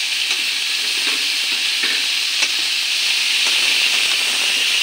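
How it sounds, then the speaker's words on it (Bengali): Fried cauliflower, potato and tomato sizzle loudly in a pan, a constant bright hiss with faint stirring scrapes now and then, close and without talk. "এখন ফুলকপি আলু ভাজা করাটা দিয়ে দেব। একটা টমেটো কেটে রেখেছি, ওটাও দিয়ে দেব।"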